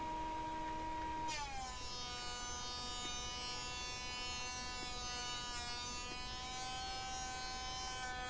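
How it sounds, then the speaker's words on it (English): A wood planer runs with a shop vac and cyclone dust separator collecting the chips, producing a loud, steady, buzzing motor whine whose pitch drops and settles after the first second, then holds unbroken to the end. "I ran some stock through the planer and I got much less blowback than I did before."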